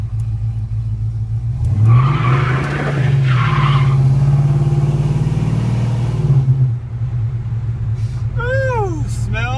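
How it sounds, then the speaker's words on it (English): El Camino with a 355 engine doing a tire burnout, a loud engine rumble with screeching tire squeal for several seconds, then fading as faint voices and a warbling whistle follow near the end. "but listen to the burnout."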